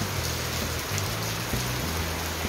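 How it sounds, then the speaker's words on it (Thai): Heavy storm rain without wind pours steadily, a dense hiss of drops drumming on a surface, loud and close with no talking. "ตกแรงมากเลยนะคะเมื่อกี้ยังแดดอยู่เลยนะคะตอนนี้ก็ตกมาแล้วตกแรงด้วยนะคะ"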